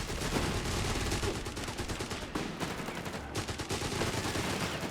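Rapid, sustained bursts of Bren light machine gun fire in the World War II strategy game Company of Heroes 3. The rattling volleys repeat with short gaps, loud and close, and no one talks.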